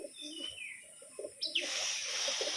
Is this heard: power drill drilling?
no